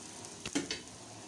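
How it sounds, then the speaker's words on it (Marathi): Bread toasting in a pan over low heat makes a brief soft sizzle with a couple of quick scraping touches, close and faint, lasting about a second. "म्हणजे कमी आचेवर हा जो ब्रेड आहे छान प्रकारे भाजला जातो"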